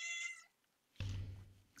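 A cat meows insistently to be let outside on a cold day, a long drawn-out call up close, followed after a pause by a thud and rustling nearby.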